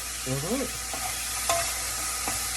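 Steak frying in a pan for steak fried rice, a steady sizzle with a few faint scrapes and a brief rising squeak near the start, nobody talking.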